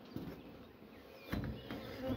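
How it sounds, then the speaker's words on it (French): Spring honeybees around a hive with queens present, a steady close buzzing drone with a few brief louder passes. "Des abeilles qui sont un peu chiantes."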